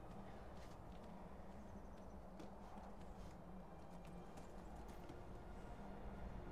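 Horse hooves clip-clop steadily at a gallop in Skyrim, a fast even rhythm of hoofbeats that carries on through the whole stretch at low volume over soft ambient game sound.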